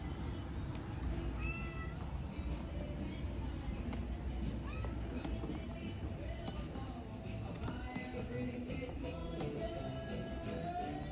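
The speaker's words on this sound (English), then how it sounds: "This cat's following me at every level I go to. And she's rubbing up." A clingy domestic cat meows indoors while following a person around and rubbing against them. Several clear, fairly close meows come over a busy background, with some talking nearby.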